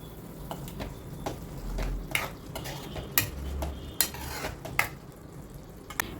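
A spoon scrapes and knocks through moth bean usal cooking in a pot over a medium flame, irregular metallic clinks and stirring strokes over a low simmering bed, close by, with no one speaking.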